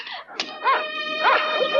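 Several dogs bark and yelp excitedly in a chase scene, overlapping tonal barks and whimpering howls close by, continuous for the whole moment with no speech.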